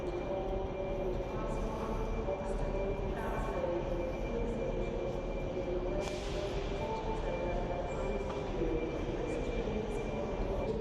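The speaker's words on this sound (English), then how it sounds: "Welcome to Glasgow Central Station." A large railway station concourse in Glasgow Central hums with quiet, diffuse ambience: distant train rumble, a faint steady tone and scattered clatter, all low and far off, with murmured voices in the background.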